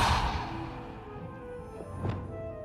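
A Depulso force spell cast in the Hogwarts Legacy video game: a hard whooshing thud at the start that fades into a low rumble, with a second, sharper burst about two seconds later.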